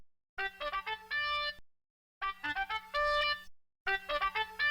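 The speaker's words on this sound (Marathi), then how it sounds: "तुझे कान नाही, फोन वाजतोय" A mobile phone ringtone plays a bright melodic tune in three bursts separated by short pauses, clear and close with no talking over it, in a home setting.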